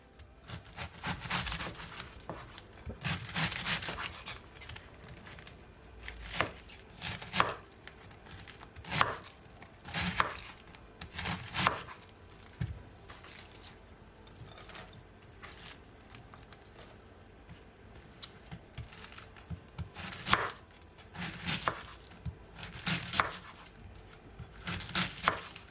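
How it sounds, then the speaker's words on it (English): A knife cuts through a small cabbage on a board in a run of crisp chops, some in quick bursts and others spaced apart, close and fairly loud with no talking. "Just gonna take your knife and just cut it like this."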